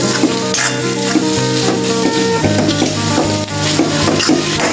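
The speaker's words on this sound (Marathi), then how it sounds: "थोडं फिरून घ्यायचं" Masala is stirred in a hot pan, giving a loud, continuous sizzle with steady scraping throughout, and no voices.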